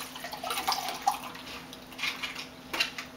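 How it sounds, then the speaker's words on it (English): Water pours steadily into a 5-gallon bucket, a continuous moderate splashing with small drips and gurgles. "what we can do is we can refill our 5-gallon bucket up"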